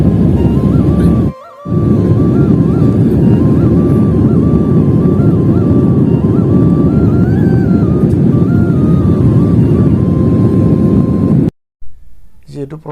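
An AirAsia passenger jet on a Guwahati to Delhi flight gives off a loud, steady engine roar and rumble in the cabin with a faint tonal whine above it, broken by a brief dropout and ending in sudden quiet.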